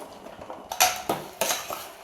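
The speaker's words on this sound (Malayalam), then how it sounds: "അതിലേക്ക് നമ്മൾ കഴുകി വാരി വെച്ചിരിക്കുന്ന കപ്പ ചേർത്ത് കൊടുക്കാം." Washed tapioca pieces tipped into a pot of boiling water, giving a few sharp clanks and clatters of metal pot and utensil in quick succession, close and moderately loud.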